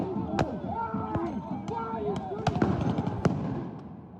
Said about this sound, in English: So they're throwing tear gas grenades, possibly flashbangs, I can't really tell.